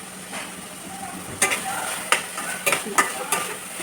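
Carrot and beetroot halwa is stirred in ghee, with scraping strokes and scattered clacks of the spoon against the pan. The strokes fall in an uneven rhythm over a continuous soft sizzle, close up.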